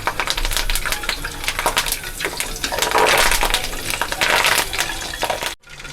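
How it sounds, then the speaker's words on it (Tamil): Curry leaves frying in hot oil on a just-switched-off stove for omapodi, a dense, crackling sizzle with sharp pops throughout, close and loud, cutting off abruptly near the end. "இப்போது ஸ்டவ்வை ஆஃப் பண்ணிவிட்டு கொஞ்சமாக நம்ம கருவேப்பிலையை பொரிச்சு எடுத்துக்கலாம்."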